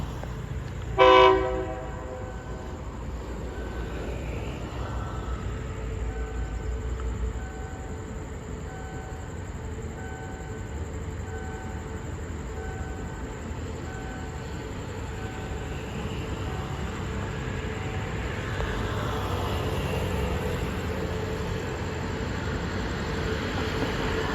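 A short train horn blast near the start, then a steady, continuous rolling rumble of Special Express 25 departing Samsen station in Bangkok, building slightly toward the end.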